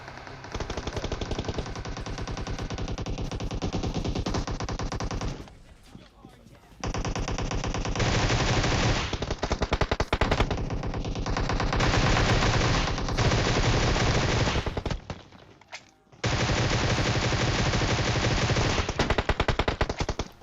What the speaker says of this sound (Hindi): मैं पीछे खड़े होके मारे जा रहा हूं गोलियां, और इनको खबर तक नहीं है।